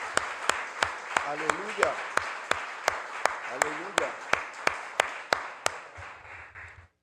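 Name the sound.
church congregation applause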